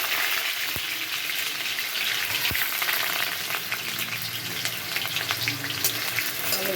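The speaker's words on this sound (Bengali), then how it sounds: "আলুগুলোকে ভালো করে ভেজে এটাকে তুলে নেব।" Potatoes frying in hot mustard oil in a kadai give a steady, dense crackling sizzle throughout, close up, with a couple of sharp utensil knocks and no voices.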